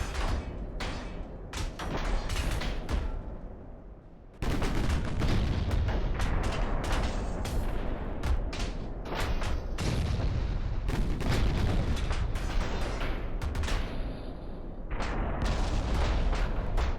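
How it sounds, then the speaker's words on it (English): Heavy 8-inch naval guns fire high-explosive shells in a naval battle in Ultimate Admiral: Dreadnoughts, with loud, dense booms rolling almost continuously and overlapping salvos thudding one after another. "we have a lot of 8-inch guns firing HE here too"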